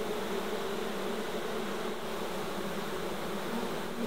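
Honey bees buzz around a hive box of old brood comb from a cut-out, a steady close drone of many insects with a constant hum and no talk.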